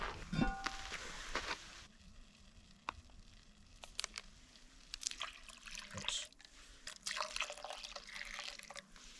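Milk and water pour and drip into a pot over several seconds, with scattered clinks and splashes and a steady background hiss.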